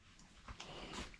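Dogs whimpering and whining indoors, wanting to be let in from the heat; faint, with a couple of soft yelps and snorts over a quiet room in a short burst.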